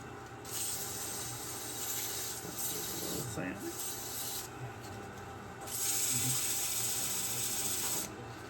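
Steady abrasive rubbing of sandpaper on a spinning wooden yo-yo on a lathe, a continuous close hiss that swells louder partway through.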